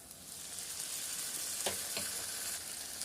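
Tomatoes with chili powder, Kashmiri chili powder and coriander powder sautéing in a pan, a steady close sizzle with a couple of brief stirring scrapes.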